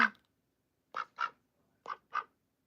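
A pet duck named Olivia Gray, kept indoors, quacks nearby in a burst followed by two paired quacks, each pair close together with pauses between, clear against a quiet room.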